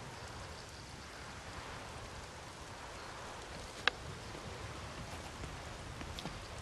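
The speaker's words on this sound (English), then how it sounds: "And it's raining outside." Steady rain falls outdoors in The Witcher 3: Wild Hunt, a constant soft hiss of drops with one brief sharp tick partway through; no voices.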